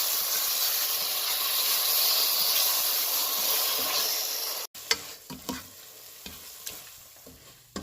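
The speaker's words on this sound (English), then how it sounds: "I'm going to give that a mix" Pureed tomatoes and spices sizzle loudly in a hot pan for chana masala, a dense steady hiss that cuts off, followed by scattered close scrapes and clinks of stirring.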